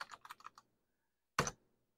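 Keys are typed on an Apple II keyboard while playing Fat City. A quick run of about five clicks is followed by a pause, then one louder keystroke, all close and clear.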